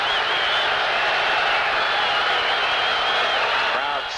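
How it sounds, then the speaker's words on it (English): A large American football stadium crowd during a 1983 Packers–Buccaneers Monday night game roars in a loud, steady, dense wash, sustained throughout and tapering slightly at the end. "Crowd still voicing their disapproval"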